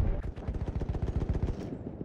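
Rapid bursts of gunfire and explosions in the Battlefield 1 video game under incoming enemy artillery, a fast run of sharp repeated cracks that thins out toward the end.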